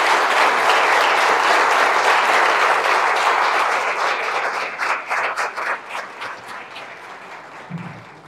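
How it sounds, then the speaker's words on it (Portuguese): An auditorium audience gives warm, full applause that holds steady, then thins into separate, fading claps as the crowd finishes. "encerramos com uma carinhosa salva de palmas"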